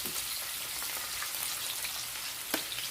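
Fish sizzles steadily in a frying pan, a continuous crackling hiss with scattered sharp pops and spatters, fairly quiet and with no talking.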